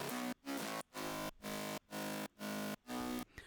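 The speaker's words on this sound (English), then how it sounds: "Another gritty bass, and all these, it sounds like this." Gritty synth bass layers in a house track pulse in seven thick, buzzy blocks with brief gaps between them, loud and steady with no voices.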